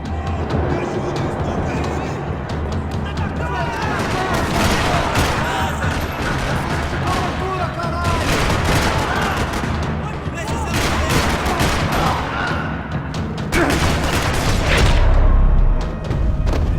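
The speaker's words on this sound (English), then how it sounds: "Another parking lot rattling with gunfire." Dense, continuous gunfire in a parking lot in the video game Max Payne 3, with booms and bursts rattling throughout, loud and close, over a busy background of engine-like rumble and game effects.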